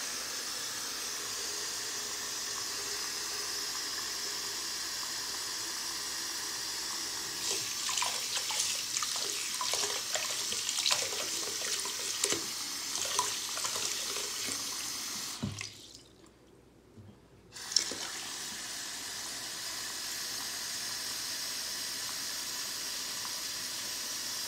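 Water from a tap splashes into a sink, a steady rushing hiss with bursts of splashing and dripping in the middle, briefly cutting out before flowing on.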